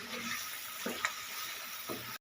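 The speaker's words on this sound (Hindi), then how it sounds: "अब हम इसे 5 मिनट के लिए अच्छी तरह फ्राई करेंगे।" Chicken nihari with spices and tomatoes fries in a pan, giving a steady, soft sizzle that runs throughout, with a couple of faint stirring clinks and no speech.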